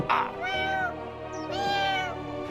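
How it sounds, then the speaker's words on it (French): A frightened cartoon kitten meows twice, high and plaintive, each cry drawn out and close by, with a short pause between them. "le pauvre chaton a tellement peur qu'il peut pas s'empêcher de pleurer"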